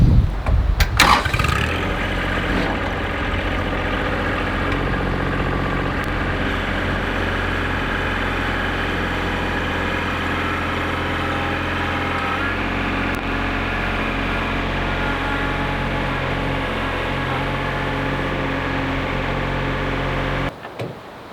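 A tractor engine runs steadily while lifting a timber frame, a loud, continuous drone that holds for about twenty seconds after a sharp start, then cuts off near the end.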